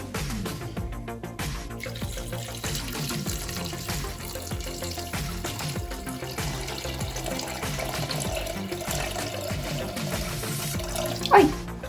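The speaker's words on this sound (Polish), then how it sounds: "dodajemy wodę" Water runs steadily into a Thermomix mixing bowl while making żurek soup, a continuous pouring and splashing wash under kitchen background noise, ending in a brief louder splash.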